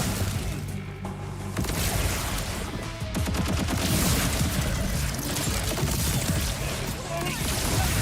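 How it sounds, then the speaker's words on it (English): Fireworks exploding in Borderlands 4, a dense rapid barrage of crackling pops and booms over a rumbling bed, loud and continuous, with gameplay sounds mixed in. "These fireworks are awesome. There's so many."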